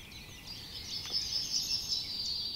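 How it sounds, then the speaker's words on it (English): Birds sing outdoors: a faint, thin chirping and twittering over a soft background hiss, with no talk. "you listen to some nice bird noises"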